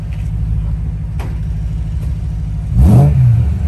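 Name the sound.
car engine revving through Remus exhaust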